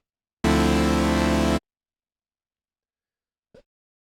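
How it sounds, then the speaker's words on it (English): A single sustained minor ninth pad chord from an Arturia SQ80 V software synthesizer, rich and bright, holds for about a second then cuts off, followed by a brief faint click. "I already have a minor 9th chord set up in Ableton's chord MIDI effect, which sounds like this"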